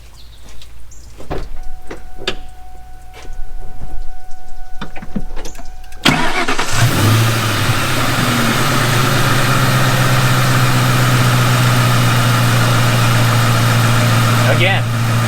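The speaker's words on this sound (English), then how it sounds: "Get back in the car and start it up again." A car engine cranks and catches after its engine bay has been washed, then settles into a steady, loud idle close by, with a hum running under it. Earlier, before the start, there are scattered clicks and a faint voice.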